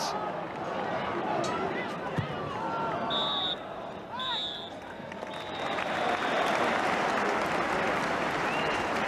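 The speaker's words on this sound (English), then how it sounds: "Stoke City come off to good applause" Stadium crowd at a Stoke City versus Arsenal football match applauding as Stoke City players leave the pitch, a broad steady wash of clapping and crowd noise with some shouts, swelling louder toward the end.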